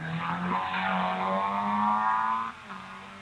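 A vintage Frazer Nash sports car revving hard up a hillclimb course, a rasping engine note rising steadily in pitch before cutting back sharply near the end, heard from trackside at moderate distance.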